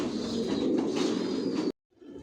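Adult racing pigeons in a loft make a dense, continuous murmur of low cooing, close and steady, which cuts off abruptly before a fainter resumption at the end.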